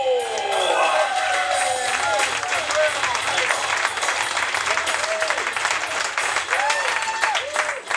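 Comedy club audience applauding to welcome a comedian, sustained dense clapping with some cheering from a large crowd, a voice talking over it at times.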